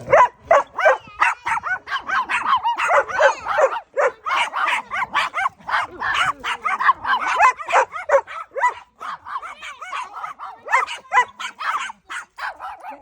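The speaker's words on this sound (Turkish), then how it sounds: "Küçük köpek evet seni seviyor." A small dog barks and yips rapidly and continuously, high-pitched and close, with brief whimpering between the barks.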